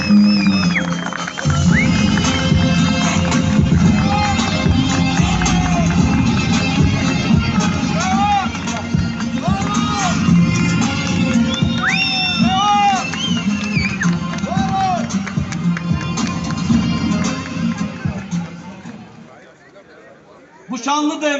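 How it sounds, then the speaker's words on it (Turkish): A large outdoor rally crowd in Turkey cheers, whistles and waves flags, a dense continuous roar of voices with shouts and whoops riding over it, holding steady for most of the stretch before dropping away near the end. "alkışlarınızla, coşkunuzla, bayrak sallamalarınızla kürsüye davet ediyoruz"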